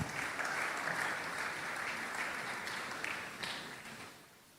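A church congregation gives steady, full applause for several seconds at a sermon, the clapping thinning and fading toward the end.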